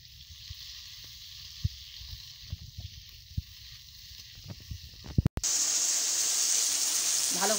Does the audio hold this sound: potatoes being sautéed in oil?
yes